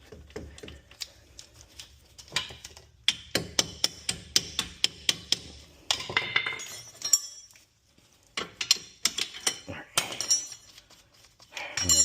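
Metal hammer blows on the spindle of a 2006-2011 Buick Lucerne during a spindle replacement, sharp ringing clanks in rapid bursts of repeated strikes with short pauses between volleys, close and loud.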